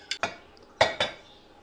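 A knife cuts through set jelly for broken glass jelly pudding, giving four sharp clinks and taps of the blade against a dish or tray, in two close pairs, with no voices.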